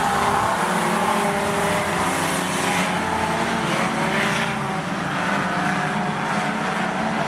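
Race cars lapping Rockhampton Speedway in a fender-bender event, engines roaring loudly and continuously at close range with overlapping passes and a rising and falling drone.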